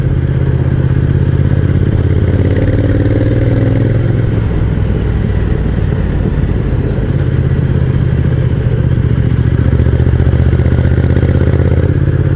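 A motorcycle ridden along a winding Alpine mountain road between Sallanches, Megève and the Gorges de l'Arly, its engine a loud, constant close-up drone with clattering wind rush and no talk throughout.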